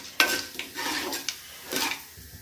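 Mustard seeds and cumin added to hot oil for a mixed vegetable curry, a few sharp crackles and pops over a soft sizzle, close and irregular.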